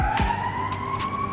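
An emergency vehicle siren wails outdoors, a steady rising tone close and loud across the whole short stretch, over traffic rumble.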